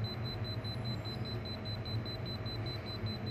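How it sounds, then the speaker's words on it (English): An HID Signo access reader in locate mode gives a steady run of short, evenly spaced electronic beeps, high and fairly faint over a low background hum, with no one speaking. "When you click on locate, the reader will start beeping for 8 seconds."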